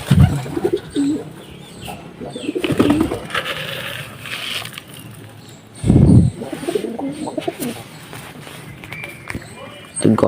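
Pigeons coo in low, throaty bursts close by, repeated several times amid scattered rustling and background noise.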